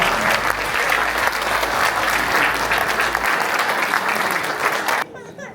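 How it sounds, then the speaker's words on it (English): A crowd claps warmly and steadily at a Canadian citizenship ceremony, sustained applause filling the room until it tapers off near the end. "Why don't we clap our hands one more time for the new Canadian?"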